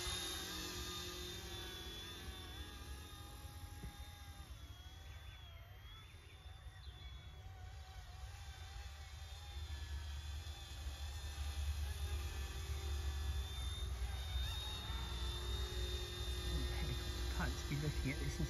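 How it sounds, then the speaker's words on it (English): An ERA C186 Pro RC helicopter flies outdoors, giving a continuous whining buzz of motor and rotor that wavers in pitch as it manoeuvres. Wind rumbles underneath, and the sound grows louder in the second half. "Helicopter pilots be looking at this and saying, that's not flying a helicopter, that's flying a blooming drone."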